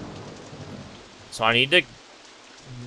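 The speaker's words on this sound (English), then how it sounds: "and it's raining. Great." Rain and thunder from the game Roller Coaster Tycoon 2, a soft steady hiss of rainfall running through, with someone speaking briefly over it.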